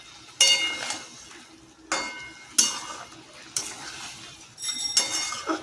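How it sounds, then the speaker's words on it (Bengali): Vegetables and potatoes are stirred with spices in a pan for veg biryani: a series of loud metallic scrapes and clinks from a spoon, spaced about a second apart, over a soft background sizzle. "মশলার সাথে পুরো সব কিছুকে ভালো করে কষিয়ে নেব"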